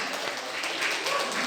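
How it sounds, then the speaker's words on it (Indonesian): An audience at a university lecture session claps in a brief, soft burst of applause, fairly faint and even throughout. "tepuk tangan lah boleh"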